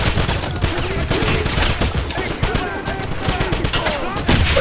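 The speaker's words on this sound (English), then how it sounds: "There's an MG-42 machine gun blocking our path." Rapid bursts of MG-42 machine gun fire from the Wolfenstein (2009) video game hammer continuously, dense and loud, with overlapping gunshots and battle noise filling every moment.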